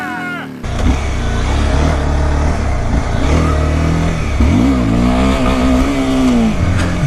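A Honda CBR250R motorcycle engine revs hard during a wheelie on an open road, a loud, close, sustained high-pitched roar that climbs and falls with throttle changes.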